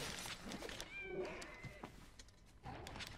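Cat meows in the video game Monster Hunter World, a short rising cry standing out over busy game sounds and rustling, fairly faint overall.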